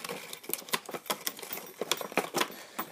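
A Muvi X-Lapse time-lapse device being opened gives a quick run of small, light mechanical clicks in an uneven patter, close and quiet.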